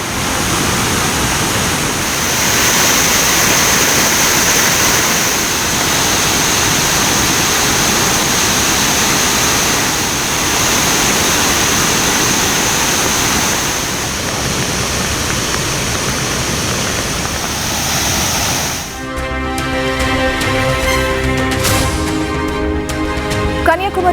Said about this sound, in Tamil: தொடர் கனமழையால் கன்னியாகுமரியில் உள்ள திருப்பரப்பு அருவியில் கடும் வெள்ளப்பெருக்கு. ஆக்ரோஷமாக நீர் விழுவதால் குளிக்க தடை